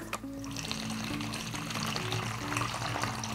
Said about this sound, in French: on va remplir avec de l'eau.